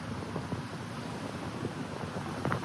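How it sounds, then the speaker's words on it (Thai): Strong wind sweeps across a terraced lawn in Chong Nonsi, Bangkok, buffeting the microphone with a steady, rumbling roar and a few gusty thumps; no one speaks. "ดูกล้องสิครับลมแรงมาก"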